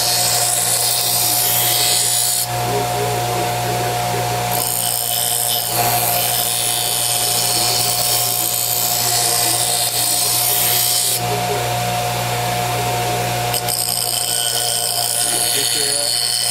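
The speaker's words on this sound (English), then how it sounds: "knife sharpener that can take your knife down pretty quick if you're not careful" Knife sharpened on a powered diamond-grit sharpener, a continuous abrasive grinding hiss with a steady tonal hum that runs the whole time, with brief shifts in pressure and tone.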